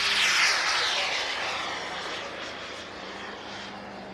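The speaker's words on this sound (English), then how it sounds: "Yeah, turbine's taking off." A turbine-powered model aircraft takes off at an air show, its jet roar strongest at the start and then settling into a steady, fading whine as it pulls away.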